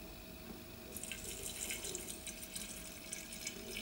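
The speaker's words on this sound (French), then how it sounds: "je vais rajouter le bouillon. Donc c'est 1 litre de bouillon de légumes" One litre of vegetable broth is poured into a cooking machine, a steady splashing stream of liquid that starts after a moment of low hum and runs on quietly to the end.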